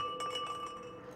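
Glass thrown against glass in the video game SOMA gives several bright clinks and chinks in quick succession, ringing briefly over a faint background hum, with no talking.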